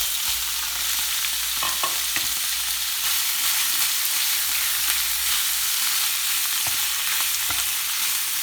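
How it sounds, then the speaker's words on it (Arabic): Chicken pieces and garlic frying in hot oil, a dense continuous sizzle with occasional soft scrapes and taps of a stirring utensil, close and steady throughout. "غادي نرميو الدجاج ديالنا مع الثومه"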